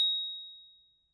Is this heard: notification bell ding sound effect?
yes